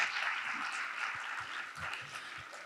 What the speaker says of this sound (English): Let's give everyone an applause.